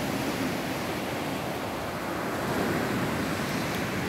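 Large rough sea waves breaking on the shore, heard as a steady, loud, broadband rush of surf mixed with wind noise, with no talking.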